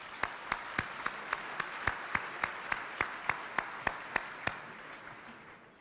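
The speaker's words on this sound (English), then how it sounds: "Let's give her a round of applause." Steady, evenly spaced claps at a mayor's business celebration luncheon ring out about fifteen times over a soft background of wider applause, then taper off near the end.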